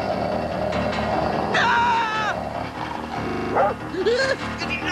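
An old dog in a haunted mine cartoon barks and yips a few times in short bursts, rising and whimpering between, heard over a busy background score.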